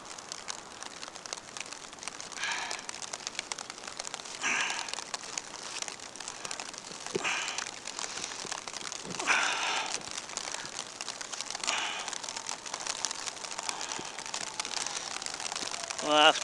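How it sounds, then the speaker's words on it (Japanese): Rain beginning to fall outdoors over a vegetable garden during autumn planting of tatsoi seedlings, a soft steady patter with brief heavier bursts, while someone talks over it. "この時期はねまあ今雨降ってきますけど"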